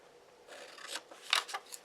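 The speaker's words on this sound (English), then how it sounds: "We're going to cut out the corners" Scissors snipping the corners out of paper, a few short close rasping cuts in quick succession, fairly quiet.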